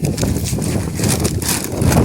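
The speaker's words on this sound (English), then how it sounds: "It's so windy" Wind buffets the microphone outdoors with steady rumbling roar and gusty bursts, loud and continuous throughout.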